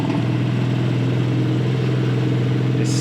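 BMW car engine running at Studie AG, a loud steady close engine drone with a deep even rumble throughout and no talking.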